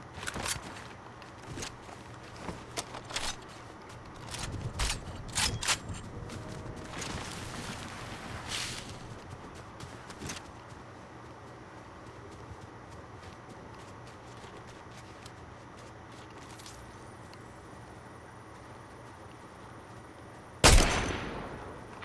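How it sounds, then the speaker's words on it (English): Scattered gunshots from a video game shootout crack in irregular bursts, loudest early on and fading into sparse, distant-sounding pops, with one sharp loud shot near the end. "There's people shooting back here behind us."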